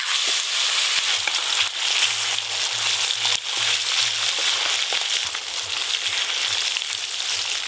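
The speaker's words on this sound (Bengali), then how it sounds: "তেল খুব ভালো করে গরম হয়ে গেছে, মাছগুলো ভেজে নেব।" Pieces of a large 4 kg silver carp fry in very hot oil, giving a loud, steady, hissing sizzle that runs throughout with occasional soft low bumps underneath.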